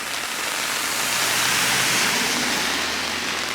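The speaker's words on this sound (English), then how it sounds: "This is a proper downpour." Heavy rain pours down steadily on a walking trail, a dense, loud, unbroken hiss that fills the whole stretch with no voices.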